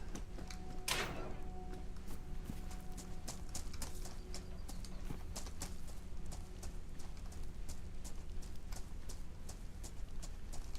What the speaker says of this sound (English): Thought I heard footsteps on metal right there